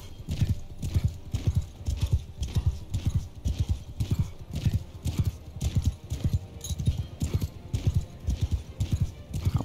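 Horse hooves clip-clop steadily at a quick gallop-like rhythm in the video game Mount and Blade 2 Bannerlord, close and fairly loud throughout, with an occasional whinny mixed in.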